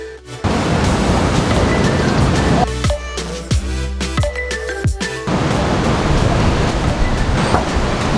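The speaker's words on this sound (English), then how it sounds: "watching the waves, hoping that the tide will go out" Ocean waves break at Tanah Lot in Bali, a loud, steady rushing surf with a brief calmer, choppier stretch in the middle before the roar returns.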